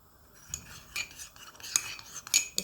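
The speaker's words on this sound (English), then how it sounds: "So I'll maybe mix that up with a tiny bit of boiling water and then I'll add that in." A spoon stirs a stock cube into boiling water, giving quick, light metallic clinks and scrapes against the container that grow a little busier toward the end, heard close up and with no talking.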